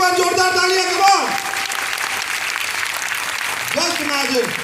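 An audience breaks into applause at a network marketing gathering, a dense wash of clapping that holds steady for several seconds while a voice speaks over it near the start and again at the end.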